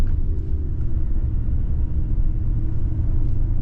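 A Toyota Tacoma pickup with a manual gearbox pulls away in short first gear, its engine a steady, loud low rumble that holds constant throughout with no voices.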